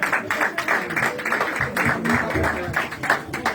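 Church congregation applauding at a Sunday service, a steady, dense wash of clapping from many hands with voices mixed in throughout.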